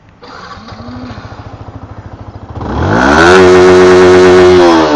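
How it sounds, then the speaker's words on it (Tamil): A Yamaha R15M motorcycle idles with a quick, even exhaust putter, then the engine revs sharply into a loud, sustained high-pitched roar, recorded close to the exhaust. "இந்த வண்டியோடைய எக்ஸாஸ்ட் சவுண்டு கேட்டுருவோம்."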